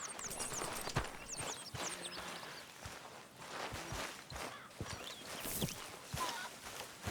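Horse hooves clip-clopping around a camp in Red Dead Redemption 2, a steady, fairly quiet run of distinct hoof strikes at mid distance, with light ambient background and little speech.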